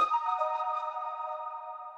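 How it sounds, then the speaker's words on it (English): A soft, breathy flute-like tone swells in and holds steady as a sustained chord, airy and smooth, fading slightly toward the end with no talking. "One-shot kits are good for textures, so this flute one-shot texture."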